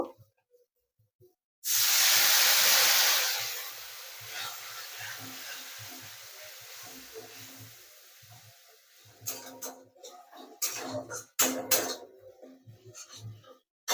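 A sharp, loud sizzle bursts up as a little water hits a hot pan of chilli powder, hissing strongly for a few seconds and then easing into a steady bubbling, ending in irregular crackles and scrapes.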